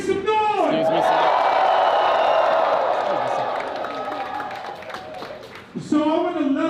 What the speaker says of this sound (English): Everybody in the crowd, make some noise.